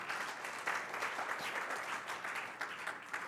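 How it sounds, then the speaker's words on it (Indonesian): Congregation clapping together during a Sunday afternoon Christian church service, a steady dense patter of many hands that holds at moderate level throughout. "hari ini saatnya tepuk tangan untuk Tuhan."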